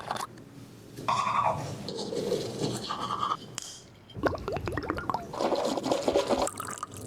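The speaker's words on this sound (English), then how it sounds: "He used bottled water to rinse his mouth?" Mouth being rinsed with bottled water: bursts of sloshing, swishing and brushing-like scrubbing in several separate passes, close and fairly quiet.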